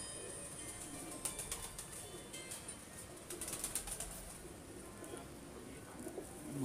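Racing pigeons in Lahore coo softly amid a steady outdoor hiss, with a few brief flurries of flapping wings and faint chirps.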